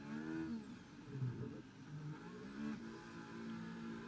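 A Ferrari race car in an F1 racing game hums with a steady, fairly faint engine note that dips and rises slightly as it heads into the pits, heard alone without voices.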